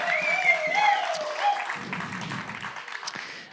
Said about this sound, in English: give him a big round of applause now